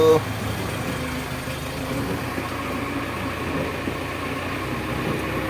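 A truck engine idles steadily at low revs in the rain, a continuous close rumble holding an even level throughout.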